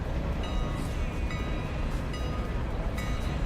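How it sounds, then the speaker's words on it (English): A long diesel passenger train rumbles steadily in the video game Railroader, a continuous low mechanical drone with faint rail clatter and brief tonal whines, moderately loud and without talk. "get our diesel super long passenger train loaded up and headed out"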